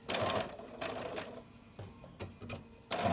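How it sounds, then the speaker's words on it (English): A sewing machine stitches down quilt binding in short bursts, its rapid mechanical chatter starting and stopping several times with brief pauses between runs, fairly close and moderately quiet. "And then just start sewing from the edge."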